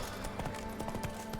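Roach, Geralt's horse in The Witcher 3: Wild Hunt (Blood and Wine), trots with a steady run of rhythmic hoof clops, soft and close, over a constant ambient bed of game sound.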